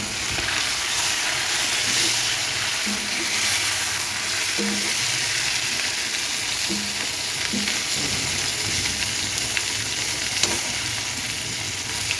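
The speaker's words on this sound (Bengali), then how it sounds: "প্রথমে একবার এভাবে ভেজে নেব" Food fries loudly in a pan with continuous bubbling oil and dense crackle, close and steady throughout, with faint scraping stirs here and there.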